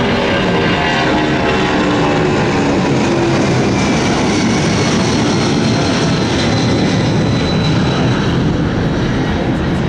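Boeing 757 jet airliner at Atlanta's airport, a loud, steady engine roar that sustains and swells slightly across the whole stretch, close and continuous with no talk over it.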